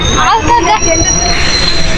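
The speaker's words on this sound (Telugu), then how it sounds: "ఇప్పుడు ట్రైన్ కూడా వచ్చింది మన ట్రైన్" A train rumbles past nearby with a high metallic squeal from its wheels, with people's voices and crowd chatter mixed in.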